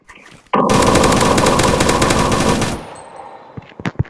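Sniper gunfire in a modded video game rings out as one loud, continuous burst of rapid shots lasting about two seconds, then trails into a fading echo followed by a few sharp distant pops.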